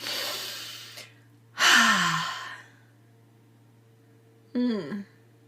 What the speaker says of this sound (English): So let's just take a deep breath.